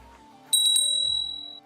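A small bell, like a bicycle or desk bell, rung in a quick triple strike, clear and close, with a bright metallic ring that decays over about a second in a quiet room.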